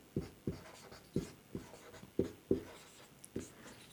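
Hand writing on paper gives a sequence of about eight short, distinct scratchy strokes at an uneven pace, close and fairly quiet.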